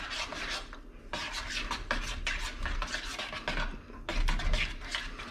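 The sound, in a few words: stirring cheddar cheese into tuna mornay sauce in a pot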